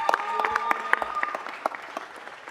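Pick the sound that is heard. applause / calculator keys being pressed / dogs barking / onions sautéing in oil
applause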